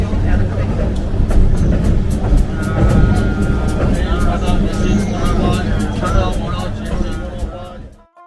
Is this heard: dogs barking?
no